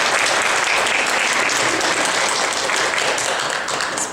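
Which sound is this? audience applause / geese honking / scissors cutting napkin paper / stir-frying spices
audience applause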